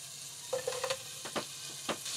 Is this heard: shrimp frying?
yes